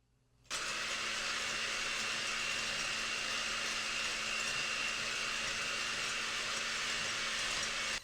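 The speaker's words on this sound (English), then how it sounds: "I'm going to be using my electric hand mixer with the whisk attachment, and I'm just going to blend this up" An electric hand mixer with a whisk attachment whips butter, starting abruptly after half a second and then running as a steady, loud, even whir with a constant pitch for the rest of the clip.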